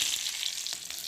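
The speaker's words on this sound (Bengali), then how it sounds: "এই দেখো মরিচ ভাজছি, শুকনো লঙ্কা" Dried red chillies fry in hot oil, giving a brief, steady hissing sizzle with a few faint crackles, close and alone.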